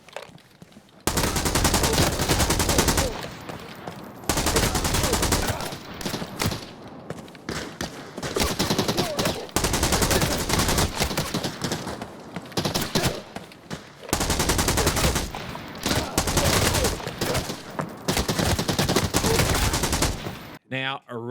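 Sustained bursts of automatic gunfire from Arena Breakout, a tactical extraction shooter, with rapid dense volleys filling long stretches and short pauses between them, loud and close, no talk over it.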